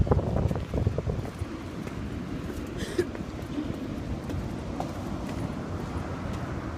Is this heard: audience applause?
no